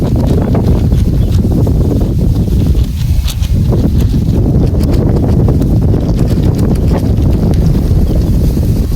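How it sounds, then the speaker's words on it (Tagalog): Strong wind buffets the microphone with a loud, continuous rumbling roar, gusting unevenly with occasional sharp knocks and rustles. "Yung hangin ah, ganda ng hangin ah."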